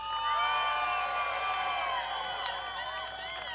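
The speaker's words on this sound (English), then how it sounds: "let's cheer one more time for River" A crowd at the Big Rock Blue Marlin Tournament cheers for a junior angler on a boat, with loud, sustained overlapping shouts, whistles and whoops from start to finish.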